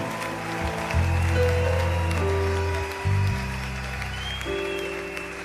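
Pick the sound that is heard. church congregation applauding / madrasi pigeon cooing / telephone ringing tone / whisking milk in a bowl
church congregation applauding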